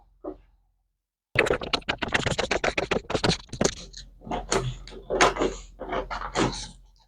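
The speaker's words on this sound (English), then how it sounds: "So I'll go ahead now to cut this out." Scissors cut out a paper bodice pattern in quick, rhythmic snips close by, with brief pauses between runs of cuts after a short silent start.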